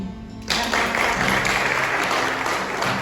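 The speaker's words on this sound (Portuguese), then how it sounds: "uma salva de palmas para o Jonathan, por favor." Church congregation bursting into applause after a quiet half-second lead-in, a dense steady wash of many hands clapping close by, with a faint voice or two mixed in.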